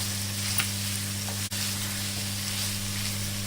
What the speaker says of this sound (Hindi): इसी तरह से 5 मिनट कलेजी को भूनेंगे